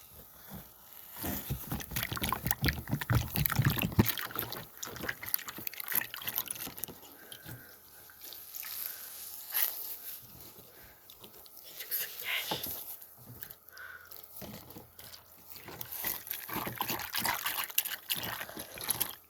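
Sponges being washed under running water, with irregular drips, splashes and squeezing patter, close and moderately loud, bursts rising and falling over time with a little faint talk.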